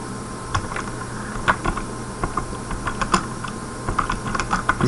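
Keys on a computer keyboard are tapped in quick, uneven bursts, each click close and crisp over a faint steady background hum.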